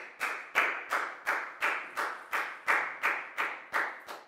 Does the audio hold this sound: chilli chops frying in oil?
no